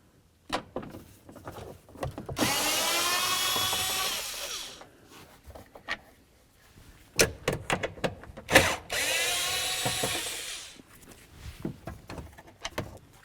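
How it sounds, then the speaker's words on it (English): A power drill backs out the tail light mounting bolts on a 2008-2013 Nissan Rogue, with two sustained whirring bursts of a few seconds each. Clicks and clunks of handling come between and after them. "Let's continue on by removing our two mounting bolts."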